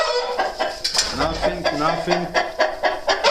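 Chickens, including a rooster, clucking and fussing inside a coop in winter, with a steady run of close, rhythmic clucks and rustling throughout.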